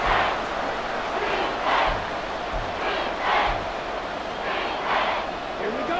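Stadium crowd in a Madden NFL 24 game between Atlanta and New Orleans roars in swelling waves, while broadcast commentary talks over the cheering throughout.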